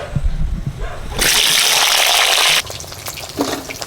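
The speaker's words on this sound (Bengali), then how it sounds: "তেল গরম হয়ে গেছে আলুটা ছাঁকা তেলে ভেজে নিচ্ছি" White potatoes dropped into hot mustard oil in a karahi burst into a loud, steady deep-fry sizzle that holds for over a second before easing to a softer bubbling crackle.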